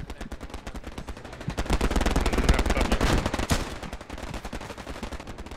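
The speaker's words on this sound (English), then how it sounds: "Wait, are we getting machine gun from the side?" Sustained World War 2 machine gun fire rattles in the Hell Let Loose shooter game, with rapid bursts swelling to a dense peak midway, then easing into steadier shots.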